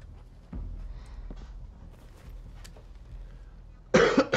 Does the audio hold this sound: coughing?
yes